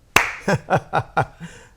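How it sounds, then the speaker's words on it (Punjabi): A sharp, loud finger snap opens, followed by four evenly spaced hand claps and a softer fifth, close up in a quiet room during a studio chat show. "ਇੱਕ ਵਾਰੀ ਆਪਣੇ ਨਾਂ ਦੀ ਚੁਟਕੀ ਮਾਰ ਕੇ ਆਪਣੇ ਨਾਂ ਦੀ ਇੱਕ ਤਾੜੀ ਮਾਰ ਦਿਓ"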